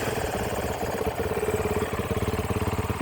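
A 450L motorcycle engine idles steadily after adjustment of its electronic choke and idle adjuster, a continuous close mid-low rumble with a regular throbbing pulse and no talk over it.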